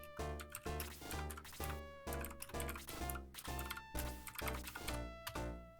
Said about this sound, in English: Sorry for the clacking.